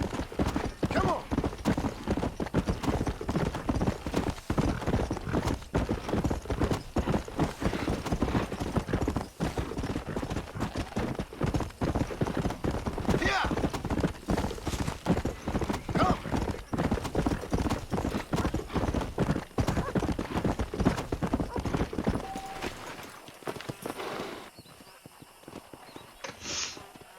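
Horse hooves clip-clop in a steady, busy rhythm throughout Red Dead Redemption gameplay, close and continuous, with a brief whinny. Voices talk over part of it, and the hoofbeats stop near the end.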